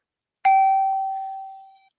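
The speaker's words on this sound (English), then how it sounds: "you get a bell over here" A single bell is struck once, a bright clear ding that rings out and slowly fades over about a second and a half, alone and close.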